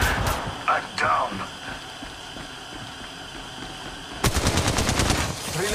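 Rapid automatic gunfire from Apex Legends Mobile: a couple of short early bursts, then a loud, sustained volley of fast shots near the end, over a steady low game hum.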